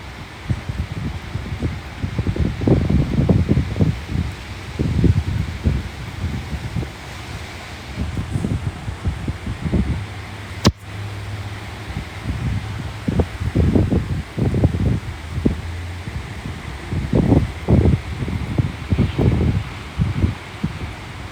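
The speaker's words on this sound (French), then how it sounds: "J'adore le vent. J'aime le fait que ça bouge." Wind gusting through leaves outdoors on a summer afternoon, rustling swells and fades in repeated bursts with some microphone buffeting, no talking.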